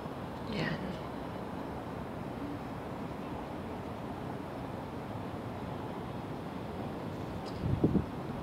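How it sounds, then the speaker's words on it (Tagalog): Steady wind rushes over the microphone at night in Hong Kong near the Happy Valley racecourse, a constant broadband roar with faint traffic beneath and a brief rustle near the end. "Hangin."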